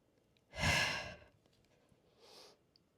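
A person takes a deep, audible breath during a beginner hatha yoga exercise: one long, close breath lasting about half a second, followed by a softer, shorter breath a moment later, with no talking.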